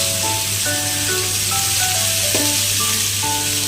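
Cauliflower frying in a pan, giving a loud, dense sizzle that runs steadily throughout, with a few stirring scrapes over the top and no voices.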